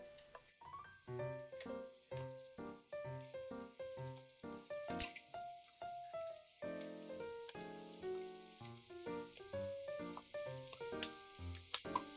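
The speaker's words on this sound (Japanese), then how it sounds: "まず長ネギを焼きます。" Japanese long green onion (naga negi) grilling in a pan gives a steady, soft sizzle that runs throughout beneath background music.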